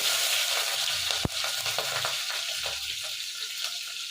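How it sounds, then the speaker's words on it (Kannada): Green and dried chilies tossed into hot oil for a Kannada dill-leaf curry: a steady, close frying hiss with a single sharp clink and light stirring scrapes, no voices. "ಈಗ ಇವನ್ನ ಒಂದೊಂದೇ ಹಾಕಿ ಹುರ್ಕೊತಿದ್ದೀನಿ ಫಸ್ಟಿಗೆ ಮೆಣಸಿನ್ಕಾಯಿ ಹಾಕ್ಕೊತಾ ಇದ್ದೀನಿ"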